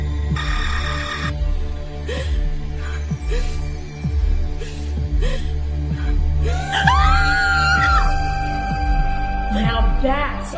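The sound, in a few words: horror film scream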